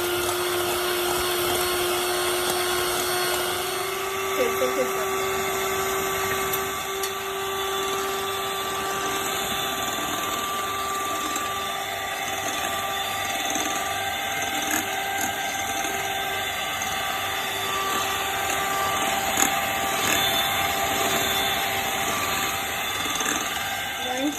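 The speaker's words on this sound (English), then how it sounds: "Beat continuously for 5 minutes. This will cook the egg whites along with fluffing them up." An electric mixer beating egg whites over a flame for a cupcake frosting, giving a steady, close, high motor whine that runs unbroken and unchanging throughout, with no voices.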